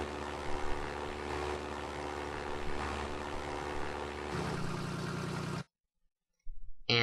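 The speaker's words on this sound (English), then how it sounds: "And my airplane totally comes to a stop right here." A Minecraft airplane engine drones with a steady, buzzing hum that drops in pitch as the plane slows, then cuts out abruptly into silence before a short burst of noise returns.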